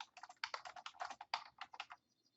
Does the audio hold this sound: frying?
no